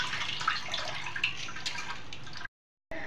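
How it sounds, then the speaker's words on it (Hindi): Soaked rice sits in a mesh sieve while water drains and drips from it, a soft continuous trickle with scattered drips, followed by a brief gap of silence near the end. "हमने चावल का पानी डाल दिए और जाली में रख दिए चावल पानी निथरने के लिए"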